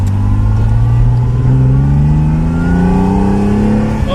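A 1973 Ferrari Dino 246 GT engine in the Forza racing game, revving loud and close with a steadily climbing pitch as it accelerates, with no talk over it.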